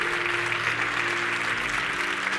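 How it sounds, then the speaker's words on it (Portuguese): A church congregation applauds in worship during a religious service, a steady wash of clapping from many hands throughout, with no voices over it. "aplaudam ao Senhor"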